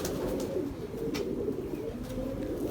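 Domestic pigeons coo in a steady, low, rolling murmur that continues throughout, fairly close and with no talking.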